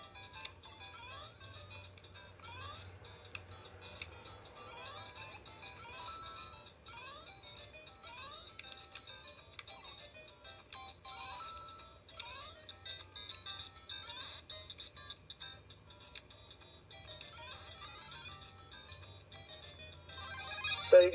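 Tinny, beeping chiptune melodies from Game Boy Color games play continuously at low volume, with a short louder burst at the end.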